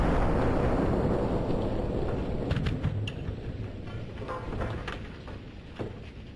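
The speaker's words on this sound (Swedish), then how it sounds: "Vi har provskjutit den allra minsta kanontypen ombord." A test firing of the smallest cannon type from the warship Kronan: a heavy boom decaying into a long, fading rumble with wind buffeting the microphone, and a few scattered clicks in the tail.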